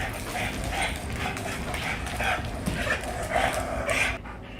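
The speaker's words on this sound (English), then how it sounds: "I hate hearing dogs choke themselves out." A stressed, fearful doodle straining against a slip collar on a leash makes continuous close dog sounds, a run of whimpers and yips that stops abruptly near the end.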